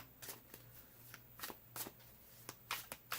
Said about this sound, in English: These cards are going to get used to getting shuffled.